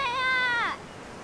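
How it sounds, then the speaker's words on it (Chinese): A single seagull call at the seaside, one clear, close, drawn-out cry that bends downward as it fades, heard alone against quiet background. "好多海鸥啊！"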